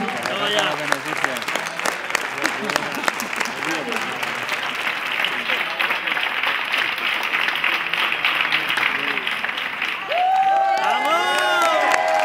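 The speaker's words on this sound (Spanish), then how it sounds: "Un aplauso para Nandi." Crowd at a metal rock concert in Spain applauds and cheers loudly and steadily for the event organizer, with whoops and shouts mixed in; near the end voices and cheering swell over the clapping.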